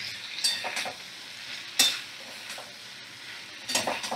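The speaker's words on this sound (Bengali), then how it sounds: "এবারে আমি ভালো করে নাড়াচাড়া করে নেব।" Sliced bottle gourd fries over a high gas flame while being stirred, a soft continuous sizzle broken by several scraping strokes and light clinks of the spatula against the pan, close by with no talk.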